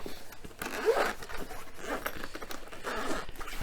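A zipper on the fabric-covered carrying case of an E-WIN Prime fascia massage gun rasps in several short pulls, close up and alone.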